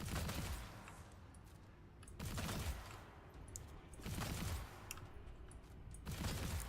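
Gunfire bursts in the alpha of the shooter Immortal: Unchained, four loud bursts of rapid shots at regular gaps, each fading into a noisy tail before the next.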